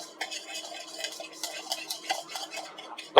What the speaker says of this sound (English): Now that I got all my seasonings in the bowl, go ahead and give it a good mix all together